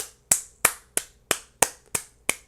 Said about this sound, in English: Everybody clap with me now.